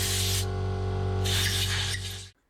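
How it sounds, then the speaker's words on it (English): Compressed air blasting through the hoses and air screw hole of a Keihin PWK carburetor from a trials bike, a loud continuous hiss in two bursts with a brief dip between, cutting off near the end. "we use compressed air, but you can use carburetor cleaner or sonic cleaners"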